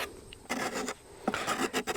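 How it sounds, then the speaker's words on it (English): Hand scraper drawn across a wooden oven paddle for a traditional beehive cob oven, giving several close, rasping strokes in short bursts with brief pauses between them. "It always amazes me how effective scrapers are."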